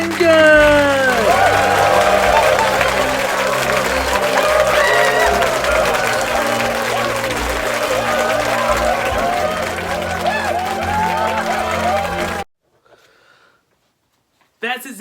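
An audience applauds and cheers for a New Year's Eve show host, a loud, dense wash of clapping with whoops and shouts that stops abruptly, followed by near silence and a faint sound at the end.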